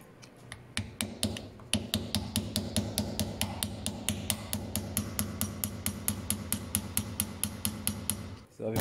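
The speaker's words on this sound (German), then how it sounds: "gehen wir jetzt da vorne mit dem Hammer ein bisschen drauf" A hammer taps a new front wheel bearing's circlip into place on a Skoda Octavia 1.8T, giving a close, steady run of sharp metallic strikes at an even rhythm that stop near the end.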